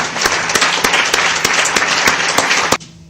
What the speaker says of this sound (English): that must begin, I think, with a round of applause for our speakers